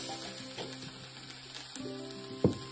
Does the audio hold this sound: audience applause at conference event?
no